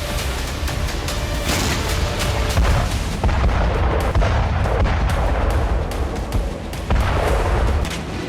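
Heavy booming fire from a self-propelled gun striking a Ukrainian post near Bakhmut, a dense roar of repeated blasts and rumbling low-end thuds over constant loud background noise.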